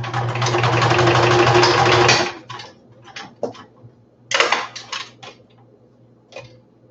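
A sewing machine stitches fabric panels in a steady, loud run for about two seconds, then stops; soft clicks, taps and handling of fabric follow in short bursts.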